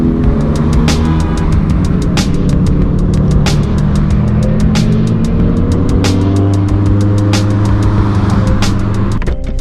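Sports cars, a 2022 Subaru BRZ and a Honda S2000, drive fast at night with a steady loud engine and road roar, punctuated by repeated sharp clicks or ticks, with no talking.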